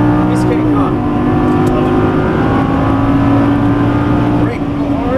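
A Lamborghini Gallardo V10 at full throttle on a Las Vegas racetrack, a loud, sustained engine roar with rising harmonic tones over about five seconds.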